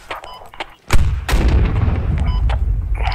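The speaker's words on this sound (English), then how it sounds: "Grenade." A grenade goes off in a multiplayer shooter video game, a sharp loud blast followed by a long rumbling roar, with brief clicks and faint game noises before it.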